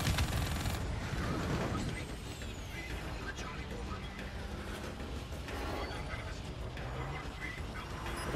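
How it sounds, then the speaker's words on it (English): Anti-aircraft flak gunfire in the Call of Duty Black Ops III video game, a steady rumbling barrage of bursts and distant booms under continuous engine and combat noise, loudest at the start and then holding at a dense, moderate level. "Watch out for that flak."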